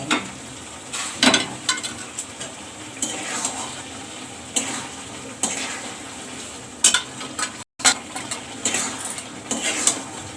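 Meat kosha frying in a pan with a steady sizzle, punctuated by repeated scraping and clinking strokes of a spoon stirring against the metal, fairly close and without talk.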